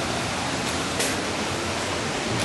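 A waterfall near a mountain hot spring at a ryokan in Ginzan Onsen, Yamagata, gives a steady broadband rushing hiss, continuous and fairly loud, with no voices.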